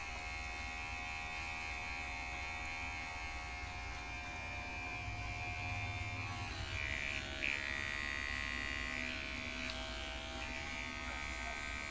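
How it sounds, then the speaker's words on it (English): Electric hair clipper buzzing steadily while trimming a fade haircut at home, a continuous close motor hum with slight shifts in pitch as the blade moves through hair, no talk. "just working at the dark spots left behind by the circular clipper"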